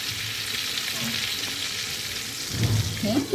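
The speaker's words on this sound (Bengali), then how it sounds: "দিয়ে এটা একটু আমি চাপা দিয়ে ভেজে নেব।" Pointed gourd frying in hot oil with turmeric in a home kitchen, a steady close sizzle and bubbling throughout, with a voice briefly speaking near the end.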